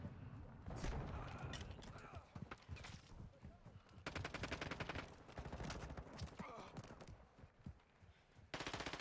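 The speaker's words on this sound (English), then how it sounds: "I'm using a fucking sniper rifle." Rapid volleys of video game gunfire crackle in close, dense bursts, with sniper rifle shots among them and a player talking over the shooting.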